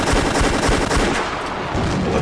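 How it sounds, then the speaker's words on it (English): Rapid-fire ballista rounds launched from battle tower gun ports, a sound effect of fast repeated thudding shots in a dense rattling burst, loud and close, lasting about two seconds. "A thunderstorm of rapid-fire ballista rounds leapt from the battle tower gun ports."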